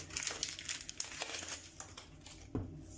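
Papery onion skin crinkles and crackles steadily as it is peeled off by hand, a close, fairly quiet rustle with a few sharper snaps.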